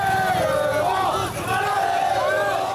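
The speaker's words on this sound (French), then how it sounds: "foule haranguée, des supporters tout feu tout flamme pour encourager et accompagner le bus des Manceaux" Le Mans FC football supporters cheer and shout around the team bus, a loud, continuous crowd roar with rising whoops and chanting voices close by.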